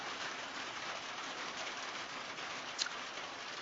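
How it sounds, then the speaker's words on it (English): Rain falls in a steady, even hiss that continues throughout, with a brief faint chirp breaking through near the end. "But I'm happy we're getting rain."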